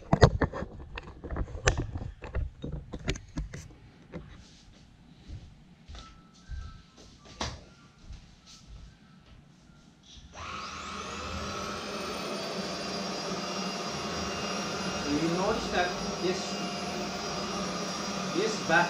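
A Roidmi 2-in-1 stick vacuum switches on partway through and runs with a steady, loud whine and whoosh. Before that there are handling clicks and knocks.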